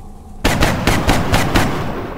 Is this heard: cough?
no